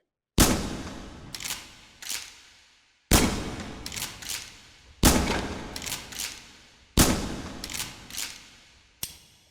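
A tube-fed pump shotgun firing in the virtual reality shooting game H3VR, five loud sharp blasts spaced about two seconds apart, each followed by mechanical racking clacks and a decaying echo.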